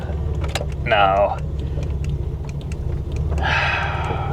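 A cheap 1987 Buick Grand National with a low, steady engine drone and two short, rising squeals as the tires spin, one early and one near the end.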